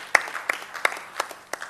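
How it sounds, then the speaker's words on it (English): Scattered claps from an audience at a vote-of-thanks event, a few sharp hand claps spaced out over a couple of seconds, thin and moderately near rather than a full ovation. "a big round of applause for Deepthasri."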